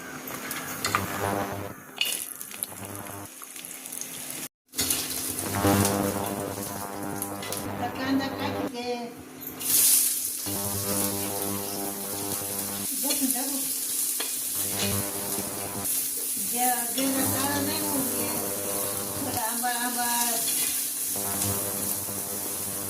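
Dried grated coconut with garlic roasts in a pan for bitter gourd, with continuous crackling and the scrape of stirring close by, while someone talks over much of it.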